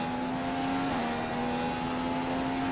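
A race car engine in a racing video game at the Bahrain track holds a loud, steady high whine that dips briefly as it shifts, then climbs again, with no talk.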